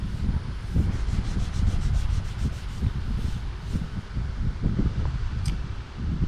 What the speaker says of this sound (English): So I'm just going to try to sand it off.